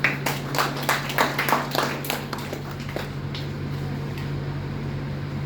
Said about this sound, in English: Let us encourage them with a big round of applause.